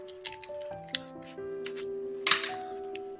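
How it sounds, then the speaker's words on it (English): Scissors snipping a folded Post-it note at a desk, a few short crisp cuts with small clicks between them, close and fairly quiet, with soft tonal music underneath. "Take a scissors, make a semi-hole"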